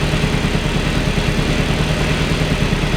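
An Austin Mk1 Arden 8-port engine held on light throttle, a steady loud rumbling drone with an even low pulse, close up and unbroken throughout with no voices.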